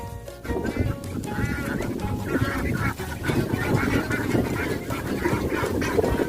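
A flock of ducks in an open pen quacks and honks continuously nearby, a dense overlapping chorus of calls with no pause.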